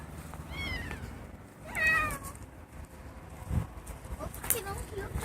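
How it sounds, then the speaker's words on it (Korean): A cat meows twice, close by and fairly loud, outdoors near a utility pole where it has come looking for food, with people talking nearby. "고양이가 어디 우리한테 왔습니다."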